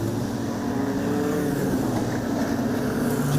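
Wingless sprint cars racing at Lismore Speedway dirt track, a continuous engine drone at moderate distance with steady sustained tones and no clear passes or voices.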